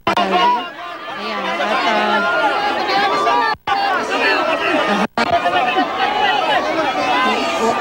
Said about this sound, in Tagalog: Yung hiyawan ng mga taga-Davao sa pagkakita sa kanilang ayan.